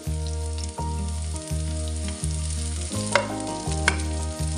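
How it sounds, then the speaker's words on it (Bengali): Green chilies and five-spice seeds fry in a pan for cooked cabbage greens, a constant close sizzle with occasional stirring scrapes under looping background music. "এখন সবকিছু একটু ভেজে লাল করে নিব।"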